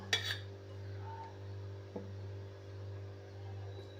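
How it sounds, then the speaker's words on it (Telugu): A pan is set down on a stove with a sharp metallic clink at the start, followed by a fainter clank, over a steady low kitchen hum. "ముందుగా స్టవ్ మీద ప్యాన్ పెట్టుకొని"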